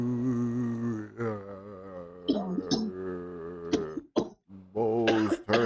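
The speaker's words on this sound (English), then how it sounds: "You heard those coughs." A zombie's rough, rasping coughs and throat-clearing sounds come in several bursts, mixed with groaning vocal tones from a Marvel Zombies animated scene.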